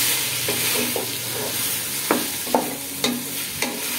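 Rice that has been soaked is stirred in a hot pan, sizzling steadily while a spoon scrapes and taps in a few sharp, close strokes.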